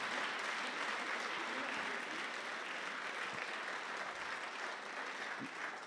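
An audience claps steadily for an award winner and a president at a young researchers' prize ceremony, a continuous broad patter of many hands in a hall, even and sustained.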